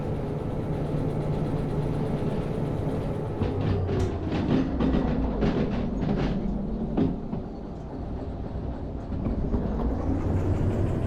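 A train locomotive rumbling along in Derail Valley, a steady low drone with a cluster of sharp clanks and clicks partway through, loud and continuous with no talk.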